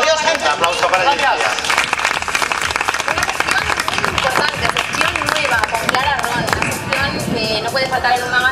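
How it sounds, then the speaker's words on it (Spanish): A studio audience on a Balearic regional television magazine show applauds loudly and continuously, the dense clapping mixed with crowd voices and music underneath. "Un aplauso para ella."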